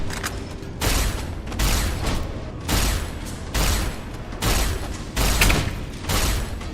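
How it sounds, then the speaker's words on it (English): A plasma rifle fires in Fallout New Vegas: a regular series of sharp, loud shots spaced just under a second apart, each a broad burst over a low, continuous background. "let's switch to the plasma rifle and test that"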